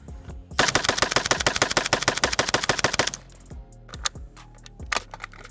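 A Stenzel SAK-21 AK rifle fires unsuppressed in a loud, close, sustained rapid string of shots lasting about two and a half seconds, followed by a few scattered single cracks and echoes.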